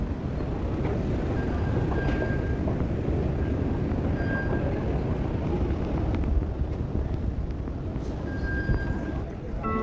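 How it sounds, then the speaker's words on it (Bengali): A train rumbles steadily nearby, a continuous low roar with faint high tones from the rails, as a Riyadh Metro train in Saudi Arabia pulls into a station. "এই যে ট্রেন অলরেডি চলে আসে এই যে আমাদের কাঙ্ক্ষিত মেট্রো এটি চলে আসে"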